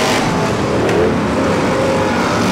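V8 stock cars race around the Mildenhall oval in a heat, their engines roaring loudly and continuously close by as the pack drives through.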